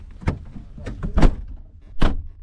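Fiat 126 car door shutting with a solid thunk, preceded and followed by a few smaller clunks and rattles of the latch and body, close and fairly loud with no talk.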